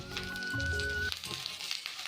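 Pointed gourd fries in oil in a pan, sizzling and crackling, with a brief tonal squeak early on, then steady frying hiss and small pops.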